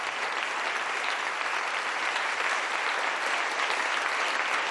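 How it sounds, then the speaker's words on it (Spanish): A gathered audience applauds at the Cervantes Prize ceremony in Alcalá de Henares, a dense, even wash of clapping that holds steady throughout with no voices. "Recibe el aplauso del público reunido aquí en Alcalá de Henares."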